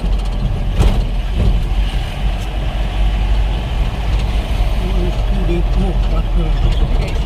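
A truck rumbles through a busy market street, engine droning steadily with traffic noise and voices of a crowd in the background.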